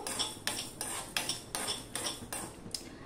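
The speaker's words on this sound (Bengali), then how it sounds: "এবার সমানে এগুলো নাড়তে থাকবো।" Spoon scraping and clinking against a hot kadai while stirring panch phoron spice powder for green mango pickle, with a steady run of sharp metallic strokes about every third of a second, close and fairly loud, no talk.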